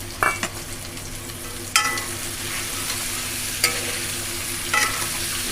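Garlic, ginger paste and chopped onion fry in a pan, a steady sizzle broken by a few sharp scraping stirs. The stirs come at irregular intervals and sound close.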